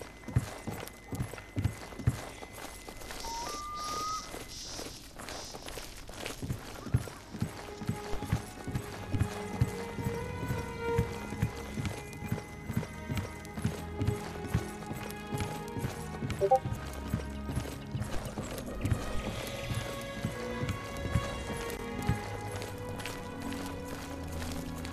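Horse hooves clip-clop in the video game The Elder Scrolls IV: Oblivion: quiet at first, then a steady rhythmic trot of close, distinct hoofbeats continuing for about twenty seconds with faint ambient game sounds beneath.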